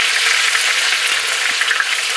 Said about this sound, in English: Give this pan a little shake.